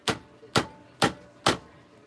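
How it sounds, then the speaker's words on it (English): Four sharp, evenly spaced strikes of a nylon hammer on a metal spoon, about half a second apart, each a dull knock with a quick decay, close by and fairly loud. "Going back to my nylon hammer."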